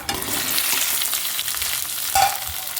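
Okra sautéing in a little coconut oil in a kadai, giving a loud, steady sizzle with a brief sharper hiss near the end and no talking.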